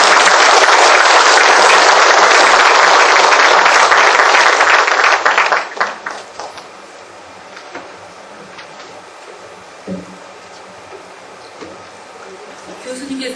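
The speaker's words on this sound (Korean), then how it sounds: "교수님께 큰 박수 부탁드립니다." A lecture-hall audience applauds a professor at the end of a talk on novels, a loud dense burst of clapping that fades out after about five seconds into quiet room noise.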